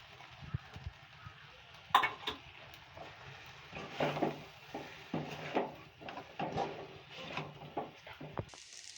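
A spoon stirs and breaks up rice mixed with egg masala in a pan, producing soft, irregular scrapes and light knocks, fairly close and quiet, with brief pauses between strokes.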